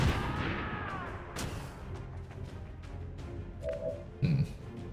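AP grenade launched and exploding in the XCOM 2 video game, a heavy boom at the start that fades into a rumbling tail, with a second short burst near the end and a faint mechanical chirp before it.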